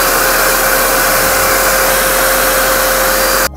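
A Shop-Vac Super 20 wet/dry professional vacuum cleaner runs at full power, a loud, steady close whine and roar that cuts off abruptly at the very end.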